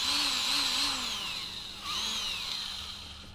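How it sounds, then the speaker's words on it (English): A power drill whines at high speed drilling a hole in a kayak to install an anchor trolley, pitch rising and falling as it bites, with a brief pause before spinning up again. "I'm going to go ahead and just drill this out"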